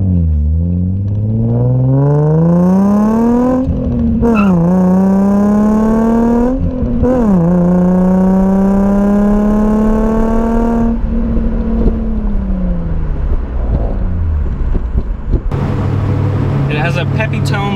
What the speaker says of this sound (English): it has a pretty mild exhaust system, but one that still sounds really, really good.